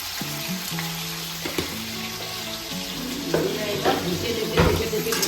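Pointed gourd frying in oil sizzles steadily up close while some tonal background sound and a few clattering stirs and knocks rise over it toward the end.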